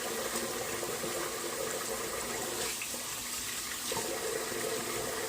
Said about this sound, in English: little cold water rinse here.